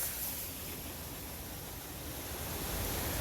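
A small waterfall in Sheffield's Porter Valley pours into a stream that runs under a footpath, giving a steady, close, rushing wash of water with no pauses.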